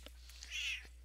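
A cat sitting on a lap gives a single short, soft meow, close but faint.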